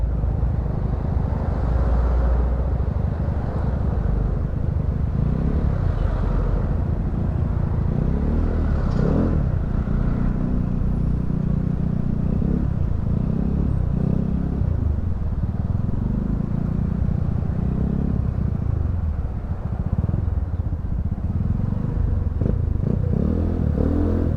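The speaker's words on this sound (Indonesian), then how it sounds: "Mobil juga udah banyak yang lewat sekarang." Cars and motorcycles pass steadily along a mountain detour road in Jampang, West Java, recently reopened after a natural disaster, with a continuous loud engine rumble and occasional revving throughout.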